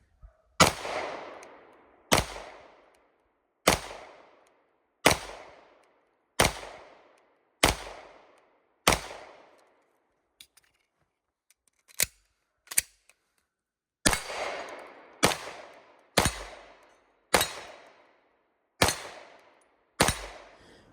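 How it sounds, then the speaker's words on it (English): A full-size Walther PDP pistol with a 5-inch barrel fires at a range from 9 yards. Sharp, loud single shots ring out in a steady rhythm, each with a short echo, with a short pause midway before the string resumes. "Here we are shooting at 9 yards with the Walther PDP."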